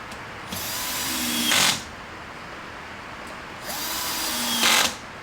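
A power driver sinks screws into a roller attachment for a 40 inch table: two separate whirring bursts about a second long each, with the pitch rising as the motor strains near the end of each, close and clear over a quiet room.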